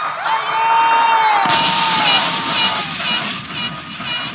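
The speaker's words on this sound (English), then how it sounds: "I want you to give yourselves a round of applause" A large crowd at a political party's public meeting cheers and whistles loudly, then breaks into sustained applause and shouting.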